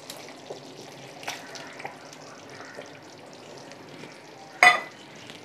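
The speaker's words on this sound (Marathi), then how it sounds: "पनीर मिक्स करून लगेचच गॅस बंद करायचा आहे आपल्याला" Paneer stirred into sizzling gravy in a pan for restaurant-style paneer angara, a soft continuous fry hiss with faint scraping stirs and one sharp clatter near the end.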